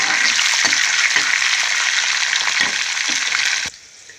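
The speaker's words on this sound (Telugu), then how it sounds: "ఇప్పుడేమో ఎండుమిరపకాయలు వేసేస్తాను" Dried red chillies sizzle loudly in hot oil for a tempering, a dense steady crackle with a few soft clinks, cutting off abruptly near the end to leave faint background hiss.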